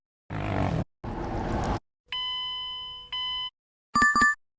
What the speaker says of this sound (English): Sound is car warning